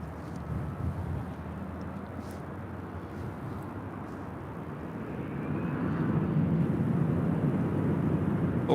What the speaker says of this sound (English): Here we have Delta Connection 3841 about to take off to Phoenix on an E175.